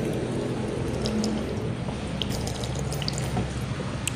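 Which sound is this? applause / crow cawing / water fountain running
water fountain running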